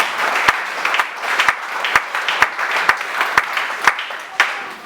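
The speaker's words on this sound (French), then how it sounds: "Acclamons très fort pour la gloire de Dieu." A church congregation claps loudly and steadily, sharp rhythmic beats over a dense wash of applause lasting throughout.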